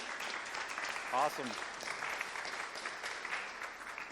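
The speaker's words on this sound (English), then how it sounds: "Let's have a round of applause." Live studio audience applauds at an evening event, steady broadband clapping throughout, with a brief spoken word from a man over it near the start.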